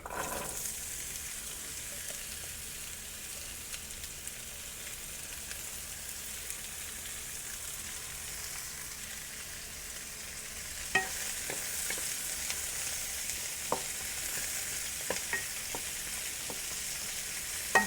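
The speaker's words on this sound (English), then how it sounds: "now to our hot wok, I'm going to add the onion, zucchini, green pepper," Onion, zucchini, green and yellow peppers sizzling in a hot wok for cauliflower fried rice, a steady close frying hiss with occasional sharp clicks of stirring toward the end.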